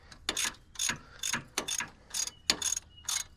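Ratchet tightening Timken wheel hub bolts on a Nissan Xterra, a series of short, quiet clicking bursts in quick succession, close by with no talking.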